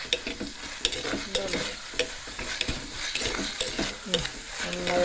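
Onion and tomato masala for crab roast sizzles in a pan while a spoon stirs and scrapes through it, a close, continuous frying hiss with periodic stirring clatters.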